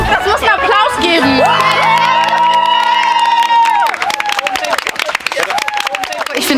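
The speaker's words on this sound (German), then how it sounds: "Das muss einen Applaus geben." A group of five teenage girls sharing a flat cheer and clap loudly together, with high excited voices whooping and shouting over scattered applause, close and energetic throughout.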